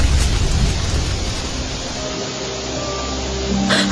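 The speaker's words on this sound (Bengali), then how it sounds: "এই চলো সবাই চলো বৃষ্টি নামছে বৃষ্টি নামছে" Cartoon rain sound effect in a Bengali fairy tale, a steady broadband hiss of falling rain that holds evenly throughout with a faint low rumble underneath.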